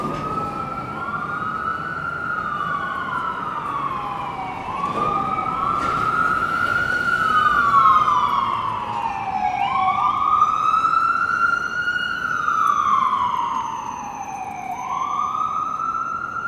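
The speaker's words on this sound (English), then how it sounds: "A lot of sirens coming this way." Ambulance sirens wail through Midtown Manhattan, loud rising and falling sweeps that overlap as several vehicles pass close by over steady traffic rumble.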